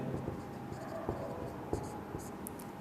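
Writing on a board during a math lesson, faint scratchy strokes with a few distinct taps, heard quietly over a low background hum.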